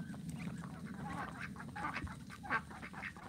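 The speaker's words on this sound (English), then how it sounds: "We got some ducks making noise down here." Faint ducks quack and honk in scattered calls, somewhat distant, over a low outdoor background hum.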